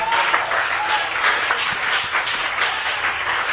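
A church congregation claps and applauds in praise during a French-language service, a dense, steady roar of many hands filling the room, with a few voices calling out beneath it.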